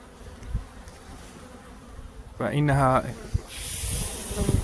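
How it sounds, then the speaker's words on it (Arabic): Honeybees cluster around a queen cage in a hive, with a steady close buzz throughout and a brief voice partway through. "النحل يلتم نحو هذه الملكة، نحو هذا القفص،"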